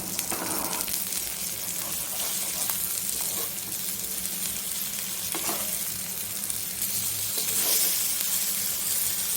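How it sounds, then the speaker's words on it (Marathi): Bombil fish fry in a pan with a continuous, close sizzle, interrupted by a few soft scraping shifts as the pieces are turned over. "आता आपण मासे पलटून घेऊया"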